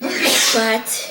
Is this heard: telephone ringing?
no